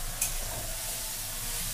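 Spices frying in oil over low gas heat while being stirred, a steady soft sizzle with a faint scrape near the start, close and continuous, with no talking.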